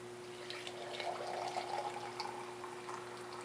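Boiling water poured from a kettle into a bowl holding 250 g of alum, a faint, steady liquid pour with gentle splashing over a low background hum.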